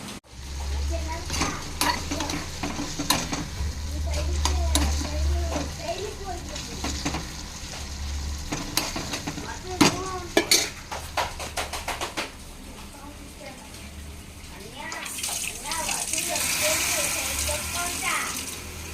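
Tomato chutney tempering sizzles and spatters in a hot pan while a utensil stirs and clinks against metal, with quiet voices now and then.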